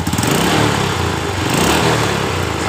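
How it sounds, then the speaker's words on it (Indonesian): A cold Honda Revo motorcycle engine idles roughly up close, loud and continuous with an uneven, rattling knock. "mengakibatkan suara kasar ketika motor ini posisi dingin"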